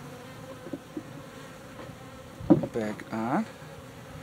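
Honeybees buzz in a steady, soft drone around a hive at feeding time, a low insect hum running throughout, with a voice briefly speaking up close over it.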